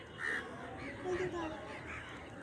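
A crow caws a few times at middle distance at the Bholahat border area in Bangladesh, harsh calls over outdoor background noise with people talking nearby.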